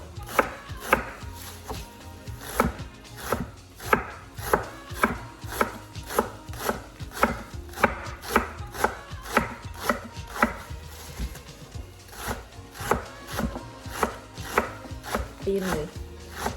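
A sharp kitchen knife chops through harvested pumpkin leaves on a board, cutting thinly in a steady run of crisp, close, evenly spaced strokes, with a short pause near the end.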